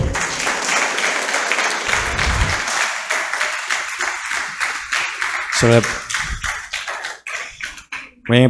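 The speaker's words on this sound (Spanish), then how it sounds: "Vamos a darle otro fuerte aplauso" A crowd at a church talk claps steadily, dense applause filling the space before thinning out into a few scattered claps near the end.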